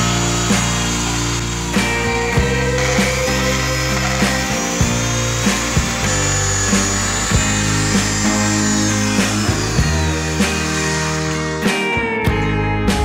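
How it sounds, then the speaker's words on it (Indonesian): A power drill bores a hole into a used lighter, giving a steady, close, whining drone with regular small ticks. The pitch shifts slightly near the end before the drill stops. "kita lanjut lubangi menggunakan bor seperti ini ya"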